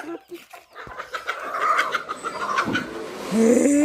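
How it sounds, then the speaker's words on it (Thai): Chickens clucking at a rural merit-making festival, near and fairly loud amid background chatter and ambient noise, with a rising squawk at the end. "เบิ่งไก่ไป"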